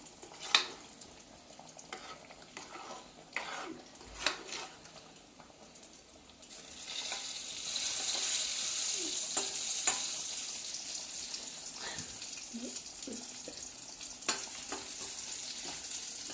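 A pan frying ingredients, onions among them, for a lentil and field bean curry gives a soft sizzle with scattered stirring clicks, growing into a louder, steady hiss partway through, close by with no talking.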